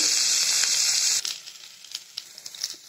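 Onions hit hot oil in a pan and give a loud, bright sizzle that drops after about a second to softer crackles and pops.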